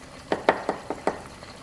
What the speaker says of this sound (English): this may be a little boring watching butter cook